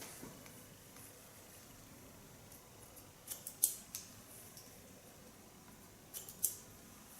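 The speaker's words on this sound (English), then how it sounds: "There I do only 2 snips" Scissors snipping hair during a haircut, two soft, crisp cuts close by, each a short double click, separated by a few seconds of quiet room tone, no voices.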